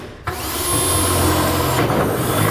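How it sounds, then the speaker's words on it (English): A power drill bores a pilot hole through the frame of a 2006 Dodge Ram pickup for a gooseneck hitch safety chain loop. It spins up sharply and then holds a steady, close, grinding whine, dipping briefly near the end. "we can drill our safety chain loop holes through these existing holes"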